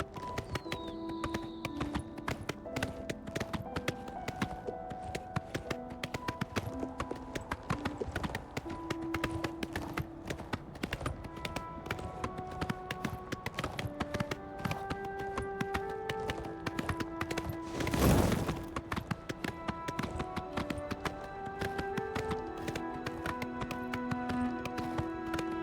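Horse hooves clip-clop in a steady, rapid rhythm while riding in Oblivion Remastered, the even gallop running throughout at moderate volume beneath game music, with a brief rushing swell partway through.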